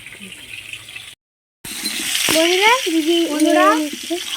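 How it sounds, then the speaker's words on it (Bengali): Potato and cauliflower fry in a pan with a loud, close sizzle after a brief cut, while a voice talks over the hiss. "আলু আর ফুলকপি ভালো করে ভেজে নিয়েছি"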